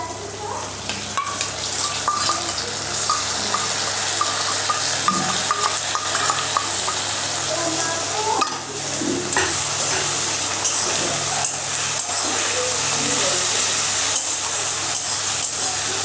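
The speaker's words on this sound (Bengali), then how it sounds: "আদাটাকে কিন্তু ভালো করে আমাদেরকে ফ্রাই করতে হবে" Ginger paste frying in oil after the onions are browned, on low heat in a pan for a crab curry, a close, continuous crackling sizzle with occasional stirring scrapes and a faint voice underneath.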